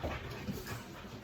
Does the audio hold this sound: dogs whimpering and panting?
yes